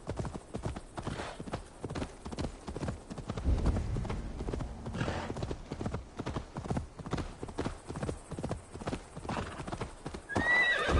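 A horse in Assassin's Creed trots with steady clip-clopping hooves and lets out a whinny near the end, fairly close and moderately loud over background game sound.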